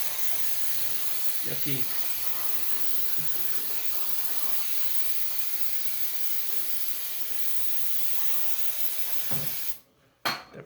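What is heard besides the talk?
brake cleaner spraying on car parts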